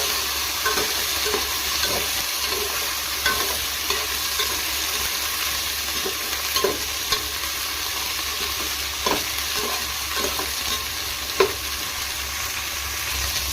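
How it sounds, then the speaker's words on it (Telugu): Stuffed brinjals fry in hot oil with a steady, dense sizzle. Occasional clinks and scrapes of stirring break through now and then, and there is no talk. "ఈ వంకాయలు మొత్తం వేసుకొని ఆయిల్లోనే ఈ ఆయిల్లో ఫ్రై చేసుకోవాలండి."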